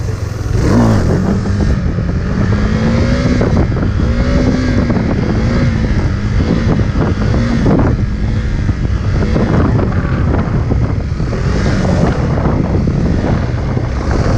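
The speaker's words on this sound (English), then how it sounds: "I think that was the slowest wheelie I've done on this bike." A motorcycle rides a slow wheelie in first gear, its engine droning loud and steady with small rises and dips in revs, mixed with heavy wind buffeting on the microphone and no talk.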